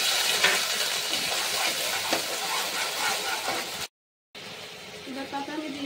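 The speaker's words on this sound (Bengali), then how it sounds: "ফোড়নে এবার আমি পেস্টটা দিয়ে দিচ্ছি।" Spice paste dropped into hot tempering oil already holding cinnamon, cardamom, cloves and bay leaf gives a steady close sizzle and hiss, broken by a brief silent gap, with a voice speaking over it.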